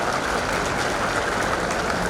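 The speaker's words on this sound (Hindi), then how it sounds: "इसलिए एक बार सेना के लिए भी जोरदार तालियां" Audience applause at a political speech in India, a dense steady patter of many hands clapping throughout, loud and close, with no voices standing out.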